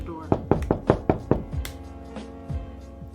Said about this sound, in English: we hear a knock on the door.